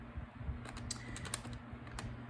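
Calculator keys pressed in quick irregular taps while working out a household cash-envelope budget, close and fairly soft, with no talking.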